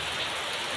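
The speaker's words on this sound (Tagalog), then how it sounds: "Mga bawat patak ng ulan." Steady rain falls over farmland, a dense, even hiss of drops at close range with no voices.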